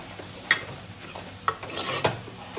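A spoon scrapes and stirs spices in a sizzling pan for Aagri-style dal mutton mundi, with a few distinct scraping strokes over a steady frying hiss.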